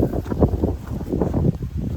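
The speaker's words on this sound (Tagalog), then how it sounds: "Mahangin dito ah." Steady wind buffets the microphone, a continuous low rumble with gusty surges throughout, no clear voices.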